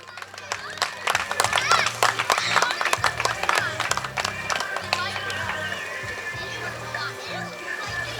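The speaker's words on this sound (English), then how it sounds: "Big round of applause for Chris, everybody." Crowd applause and cheering at an outdoor wakeboard tournament, dense clapping throughout with a loudspeaker voice talking over it.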